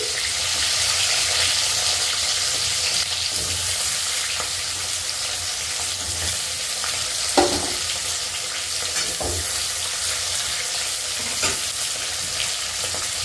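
Thick-cut onions frying in a pan after chicken, giving a dense, continuous close sizzle with a few stirring knocks and scrapes, and no talk.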